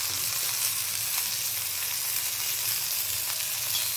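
Mandeli fish frying on an old iron tawa, with a steady, loud, close sizzle hissing continuously and no talking.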